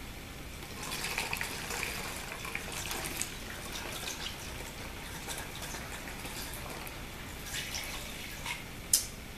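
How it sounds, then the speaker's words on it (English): Two cups of apple cider vinegar pour steadily through a funnel into a container for homemade fly spray, making a continuous soft splashing trickle that is fairly faint, with a small knock near the end. "we're going to put in this 2 cups of apple cider vinegar here"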